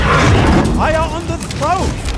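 A T-Rex in the video game Second Extinction gives a couple of short, rising, growling roars over rumbling game noise, with voices talking.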